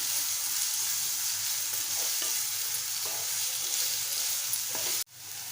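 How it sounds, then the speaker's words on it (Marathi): Onion sautéing in oil in a pan, an even dense sizzle with light stirring scrapes, close and steady, dropping off sharply just before the end, no speech. "कांदा आपल्याला छान तेलामध्ये परतून घ्यायचा आहे"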